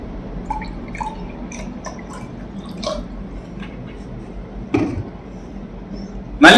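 Plain water trickles and drips into a glass of Shiraz brandy as scattered, light droplets, then a louder splash and a sharp clink near the end.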